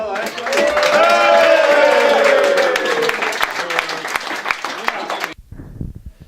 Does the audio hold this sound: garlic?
no